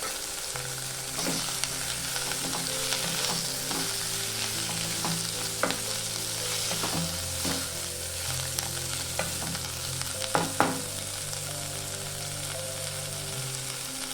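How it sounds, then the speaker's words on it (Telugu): Jeera aloo with chopped coriander and lemon juice stirred in a hot pan, a steady soft sizzle under repeated spoon scrapes and light clicks against the metal, continuous and fairly close. "పావు కప్పు కొత్తిమీర తరుగు వేసుకొని బాగా కలుపుకోవాలి"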